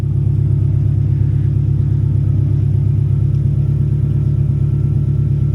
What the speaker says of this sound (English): We'll do a quick sound test of the Del Sol with the baffle out